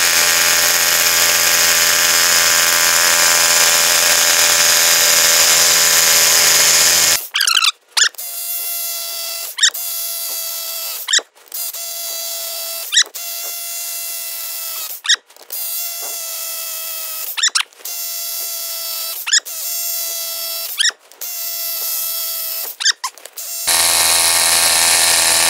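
A Hilti TE 6-A22 cordless rotary hammer drills small holes in masonry. A loud, harsh grinding burst is followed by a series of whining, tonal drilling runs broken by short regular stops, then a final harsh burst.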